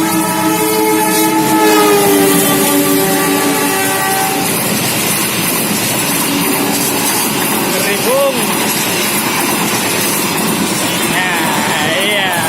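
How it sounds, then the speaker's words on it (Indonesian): A train passes close by a boarding house, sounding a long horn at first, then a steady loud rumble with clattering wheels and squeals, as people talk nearby. "Kereta api mau lewat."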